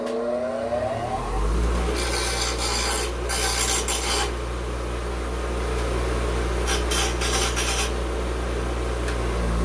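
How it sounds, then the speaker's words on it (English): A grinder spins up and grinds a burr off a saw blade drill bit, the motor whine holding steady while bursts of harsh rasping contact come and go twice. "I've got a grinder here. I'm just going to switch that on real quick just to take that burr off"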